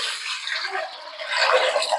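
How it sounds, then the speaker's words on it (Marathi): Water poured into a large cooking pot over sautéed ingredients on a gas stove, a steady splashing, gushing pour that swells louder toward the end, close and alone without talk. "पाणी टाकतोय"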